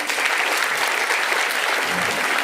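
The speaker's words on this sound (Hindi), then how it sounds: "इस बात पे ताली हो जाए" An audience at a Maharashtrian Muslim community seminar in Limbayat claps in a dense, loud, continuous burst of applause that lasts the whole moment.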